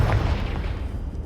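A Confringo fire spell bursts in Hogwarts Legacy as a loud, low boom that swells at the start and then rolls on as a continuous heavy rumble across the whole moment, with no voices over it.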